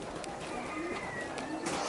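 Giant Homer and feral pigeons coo softly in an enclosure, low rolling calls rising a few times over a steady background hiss, with no talking.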